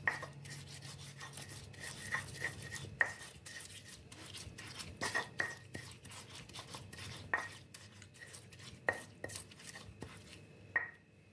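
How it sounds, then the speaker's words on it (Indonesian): Chili, garlic, salt and palm sugar are ground by hand in a mortar, with a rough rubbing scrape broken by sharp knocks of the pestle at irregular intervals, close by and with no talk. "Kemudian diulek atau dihaluskan seperti ini."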